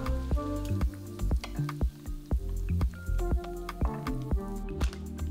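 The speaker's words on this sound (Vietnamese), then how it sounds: "chiên một lần thôi cho nó vàng giòn như thế này thì mình sẽ vớt ra cho ráo dầu" Crispy fried chicken cartilage is lifted out of hot oil to drain, giving a series of close, sharp clinks and knocks from the utensil, with faint dripping and sizzling between the hits.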